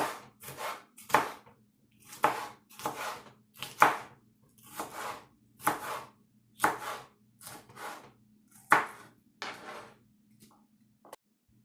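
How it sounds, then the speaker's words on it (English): Six garlic cloves minced with a knife for shrimp and sausage gumbo: a dozen or so crisp, close chopping strikes land in an uneven rhythm, alone with no talk. "Six cloves of garlic, minced."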